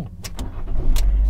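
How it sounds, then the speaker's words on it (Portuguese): Central locking on a Fiat Fiorino 1.4 Endurance van unlatches with a few quick mechanical clicks and thunks, close by, over a low rumbling background. "na hora que você abre o carro ali, ele destrava lá atrás também"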